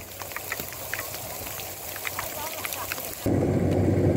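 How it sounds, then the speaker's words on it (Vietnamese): Rain pours down near a sand boat pumping at a worksite in Vietnam, a rough, steady hiss with wind buffeting the microphone that surges louder for the last second. "Nước đang mưa luôn nè. Quá trời mưa."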